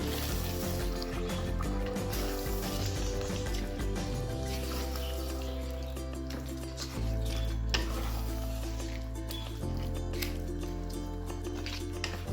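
Mutton curry being stirred in a clay pot, a steady scraping and rubbing with a faint sizzle, close and continuous beneath a low droning background hum, with no talking.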